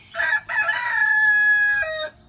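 A rooster crows once, loud and close, with a long drawn-out call that breaks off sharply at the end.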